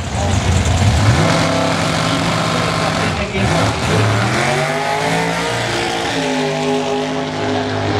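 A Super Pro ET drag racing car at the 2009 Defa Finals in Alastaro roars loudly, its engine pitch climbing and dropping through revs, with a commentator talking over it throughout.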